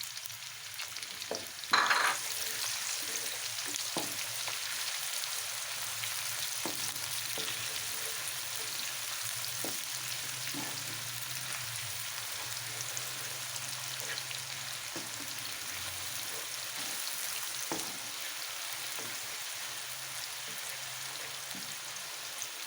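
Chopped onions frying in hot ghee in a kadhai for beef nihari, a steady broad sizzle and crackle lasting throughout, with one brief louder spatter near the start and no talking.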